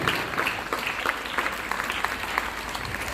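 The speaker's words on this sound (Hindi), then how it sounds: "जोरदार तालियां इस हाउस के लिए।" A group claps in a room, a moderately quiet, steady patter of applause with faintly audible individual claps.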